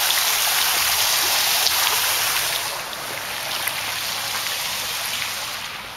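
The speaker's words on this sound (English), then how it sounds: "It's a waterfall." A constant, hissing rush of falling water fills the air, loud and close, like a waterfall splashing without pause.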